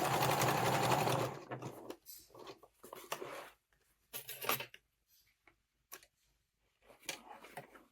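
A sewing machine stitches webbing for a tool storage roll, a long steady run of close motor-driven stitching followed by several short bursts separated by pauses.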